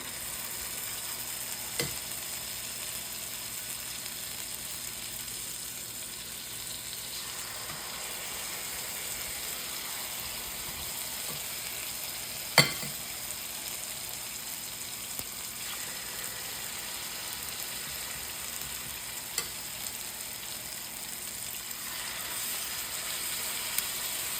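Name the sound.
food sizzling in a frying pan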